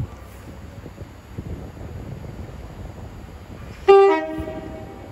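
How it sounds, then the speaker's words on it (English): A Pendolino class 390 West Coast Main Line service pulls out of Crewe station with a low rumbling roll and wind buffeting, then a loud, short two-tone horn blast sounds close by. "Now departing is the slightly delayed 1504 Phantom West Coast service from Glasgow Central to London Euston."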